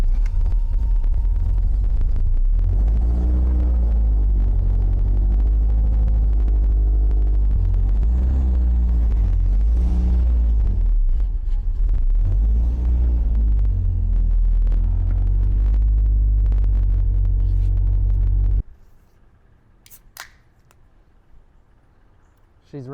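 A 1989 supercharged Toyota MR2 engine idles with a loud, steady low rumble that lasts most of the time, then cuts out, leaving quieter background noise and a few faint clicks.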